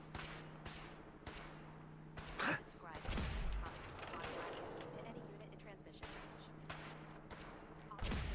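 Bursts of gunfire in Fallout 4 on Very Hard, a string of sharp cracks and thuds with a heavier blast near the middle, mixed under the game's ambient hum and a player talking.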